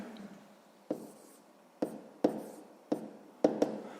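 Pen or pencil marks on paper while working a sixth-grade maths exercise: a series of short, distinct scratching strokes and taps in an irregular rhythm, close and fairly quiet, with no talk.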